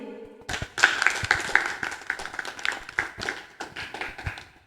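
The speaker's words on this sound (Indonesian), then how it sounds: "Aplaus untuk kelas TKJ." A classroom of students applauds after a group presentation, scattered claps forming a moderately loud patter with uneven bursts, fairly near.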